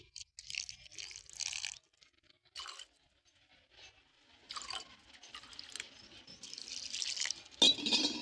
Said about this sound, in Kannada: ಇದಕ್ಕೊಂದು ಸ್ವಲ್ಪ ನೀರು ಹಾಕ್ಕೊಳತ್ತೀನಿ